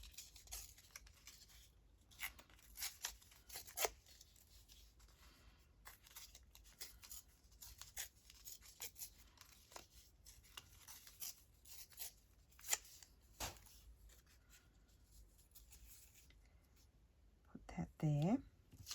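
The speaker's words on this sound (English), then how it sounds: "Let's just tear around this if we can. Oh, tough paper." Thick 120 GSM paper is torn slowly by hand for junk journal crafting, giving soft, scattered ripping and crinkling bursts. The sounds are close and quiet, with faint whispering and rustling between them.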